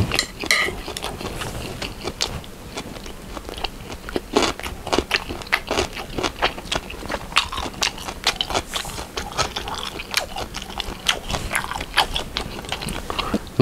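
Close, loud crunchy bites and chewing of spicy black instant noodles, sharp crackling crunches repeating in a quick irregular rhythm, with occasional light clinks of a utensil.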